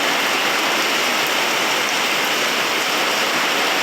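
Heavy rain falls in a constant, even hiss that fills the whole stretch, with no voices and no breaks.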